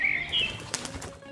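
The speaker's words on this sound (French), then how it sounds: "comme l'oiseau" Brief wing-flapping sound effect of a bird, a quick close flutter with a couple of short chirpy tones, lasting about a second with no talk.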